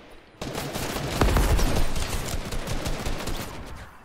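Dense, continuous gunfire in a Fortnite battle fills the clip, with a louder burst of close shots early on and a steady rattle of fire continuing at similar strength to the end, no talk.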